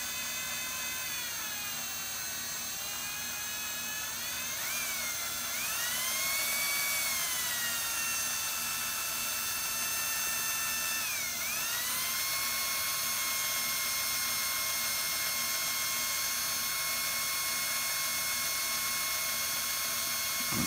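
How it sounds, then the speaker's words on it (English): A drill spins a Pinewood Derby wheel while its bore is polished. It makes a steady, high, faint whine with squealing pitch slides that come and go. "It starts to make a kind of a squeaking sound."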